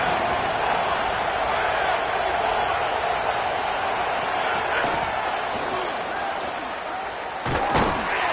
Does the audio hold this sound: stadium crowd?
yes